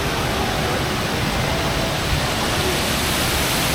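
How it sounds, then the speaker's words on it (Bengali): An indoor waterfall at Jewel, Changi Airport, Singapore, plunges from high above, making a steady, loud, enveloping rush of falling water with no break. "দেখেন কি সুন্দর পানির ব্যবস্থা এখানে একবারে উপর থেকে।"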